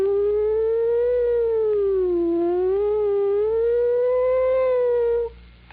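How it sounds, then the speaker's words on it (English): A police car siren wails steadily for several seconds, its pitch slowly rising and falling, fairly loud, then cuts off abruptly near the end. "sound of a distant, approaching, and receding siren"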